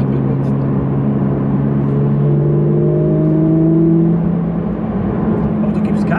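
A 520-horsepower Porsche GT3 RS pulls steadily on an open road, its engine note climbing gradually and smoothly, heard from inside the car with a voice speaking over it.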